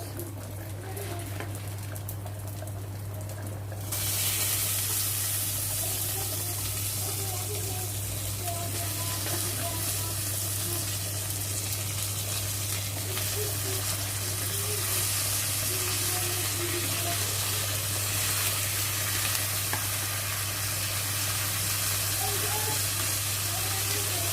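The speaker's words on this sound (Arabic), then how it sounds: "شوحت بقى كده الرز بالشعريه كده" Rice and toasted vermicelli stir-fried in hot oil and ghee sizzle loudly and steadily, a dense continuous crackle that swells after a quiet start and holds to the end, with faint stirring beneath.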